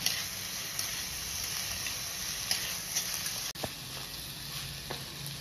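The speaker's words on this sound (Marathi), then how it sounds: "सगळ्या भाज्या एकदम बारीक चिरून घेतलेल्या आहेत मी ह्या। छान असं परतवून घेणार आहे मी आता।" Finely chopped vegetables, including carrot, sauté in a hot pan for masala rice, giving a steady close sizzle with an occasional spoon tick and a short break in the middle.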